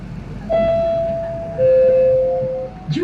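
A new Indonesian-made KRL commuter electric train runs in Jakarta near Juanda station, its motors giving a steady, close electric whine that shifts pitch partway through over a low rumble.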